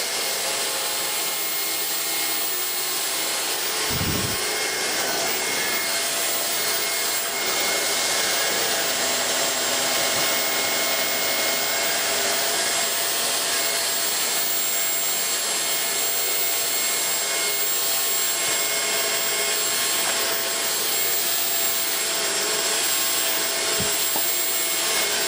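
A Beko VRT6221P vacuum cleaner runs continuously and loudly for the whole stretch, a steady airy roar with a constant motor whine, with only a couple of faint low bumps as it moves over the floor.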